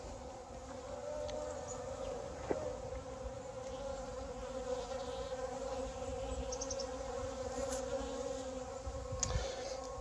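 A steady, continuous hum of honeybees buzzing nearby at a sun-warmed water feeder in cold weather, with a few faint clicks and no voices.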